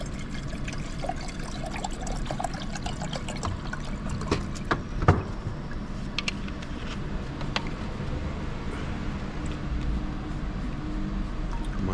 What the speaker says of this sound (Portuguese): Mais um pouquinho de água.